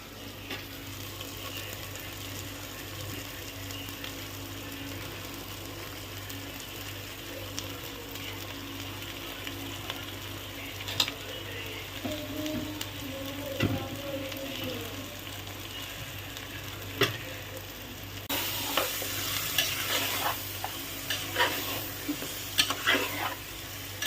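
Marinated mutton sizzles steadily in hot oil with cooked-down tomato in a pressure cooker, close by, while a spoon scrapes and stirs in intermittent clatters; no one speaks.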